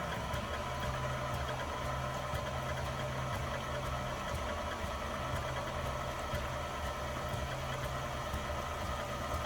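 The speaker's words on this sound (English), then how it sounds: "Had this old mixer for a lot of years." An old KitchenAid Pro-Line stand mixer whirring steadily as it churns cream into butter, a constant motor hum with faint periodic ticks, moderately quiet and without talk.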